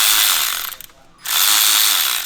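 A hand ratchet loosens a bolt on a tuned BMW 335i engine, giving two close, rapid bursts of clicking separated by a brief pause.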